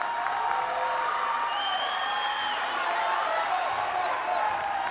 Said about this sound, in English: The crowd is getting up on their feet, cheering on East Longmeadow and Longmeadow.